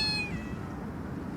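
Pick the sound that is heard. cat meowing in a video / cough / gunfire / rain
cat meowing in a video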